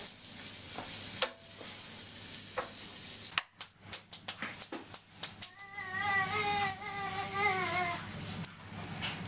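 Food sizzles and crackles in a hot pan, with scraping and stirring clatter, a child's whimpering cry rising over it in the second half.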